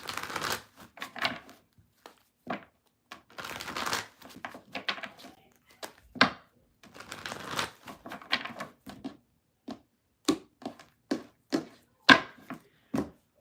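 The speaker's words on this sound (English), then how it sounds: "Last deck that needs a little shuffle." A deck of tarot cards being shuffled by hand, close and dry, in quick riffling and crinkling bursts broken by short silences, each burst ending in a soft tap or snap.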